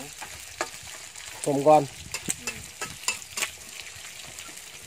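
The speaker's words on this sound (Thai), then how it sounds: "ชุดนี้ชุดเกี่ยวกับทอดกากหมู" Pork cracklings frying in a pan, a faint steady sizzle with scattered pops and crackles, plus a brief clatter of stirring and a few spoken words.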